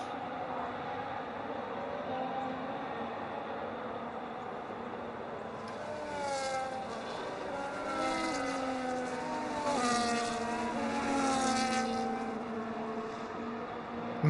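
F1 race cars weaving on the back straight at the Chinese GP in an F1 video game: engine whines rise and fall, growing louder as several cars pass at moderate distance.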